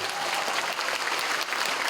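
Outdoor crowd on a city square claps for a performer at an evening concert, a dense, even burst of applause, moderately loud and steady for about two seconds.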